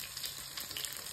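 Garlic frying in a pan, giving a steady close sizzle with faint crackles throughout, with no talk over it.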